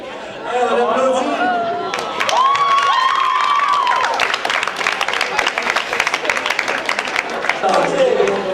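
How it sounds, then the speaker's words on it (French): A lively crowd at a French-language charity auction cheers and applauds, with shouts and chatter mixing into the clapping; a drawn-out voice rises over the noise early on before the applause settles into a steady roar. "On applaudit."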